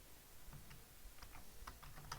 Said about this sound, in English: click on add users and just type a name of what we decided